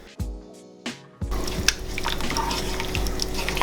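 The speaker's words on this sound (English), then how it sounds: "Water in there, just deglaze the pan." Water poured into a hot pan to deglaze it while cooking chicken tikka masala, bursting into a loud, steady sizzle and hiss that carries on to the end after a couple of short knocks.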